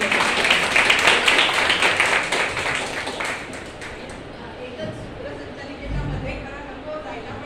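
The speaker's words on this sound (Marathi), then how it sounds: "जोरदार टाळ्या होऊन जाऊ ते परत एकदा" Applause for two guest poets at a Marathi poetry event, a loud burst of crowd clapping mixed with chatter that fades after a few seconds into quieter murmuring and a brief voice near the end.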